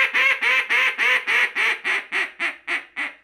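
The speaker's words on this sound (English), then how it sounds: "It's a Louisiana style double reed that everybody can kind of relate to." Power Calls Vault double reed duck call, a Louisiana-style call, blown in a string of about eleven loud, evenly spaced quacks that taper gradually in a descending cadence, close and clear with no talking.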